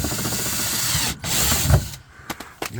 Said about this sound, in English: And we're going to drill the hole.